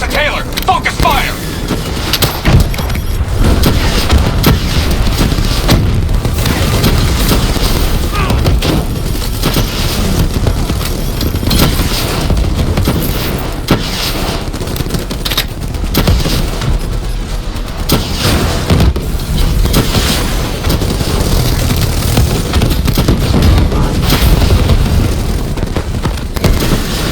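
Dense, continuous battle noise from Call of Duty Black Ops III: rapid gunfire bursts and repeated heavy explosion booms over a rumbling low end, loud and near throughout, with voices shouting under the din.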